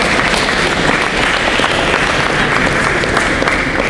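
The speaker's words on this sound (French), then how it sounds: "On applaudit M. Bellido." A crowd at an athletes' awards ceremony applauds an honoured athlete, loud continuous clapping filling the hall at a steady level throughout, with no pause or voices standing out.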